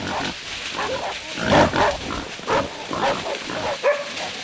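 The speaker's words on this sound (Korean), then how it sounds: "개들의 추격을 피해 도망치는 것은 멧돼지" Hunting dogs bark and yelp excitedly while a wild boar grunts and squeals amid a noisy outdoor winter chase in a Korean forest, the sounds overlapping in bursts.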